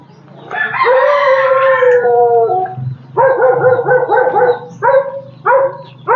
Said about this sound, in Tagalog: May aso ito.